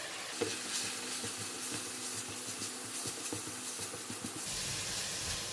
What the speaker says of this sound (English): We will stir fry until we get the very nice fragrance of all the curry powder.